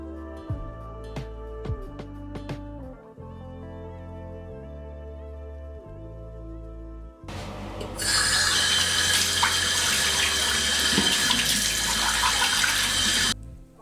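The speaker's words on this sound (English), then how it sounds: "I then just wet my face with water." Water runs from a bathroom tap as a face is wetted, with a few soft splashes and rings over a low hum at first, then a loud, steady close rush of running water that stops abruptly near the end.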